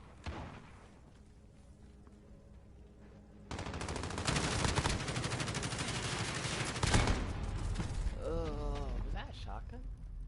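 Carbine gunfire in Call of Duty: Modern Warfare breaks in after a few quiet seconds as a loud, sustained burst of rapid shots. A voice speaks during the closing seconds.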